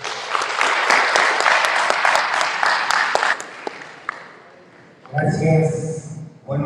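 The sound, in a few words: audience applause at conference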